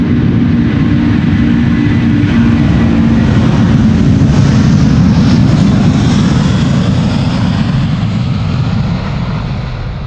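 A 19-year-old Delta Air Lines Airbus A330-300 departs Amsterdam Schiphol, its jet engines producing a loud, sustained, close roar that stays steady throughout, with no talk.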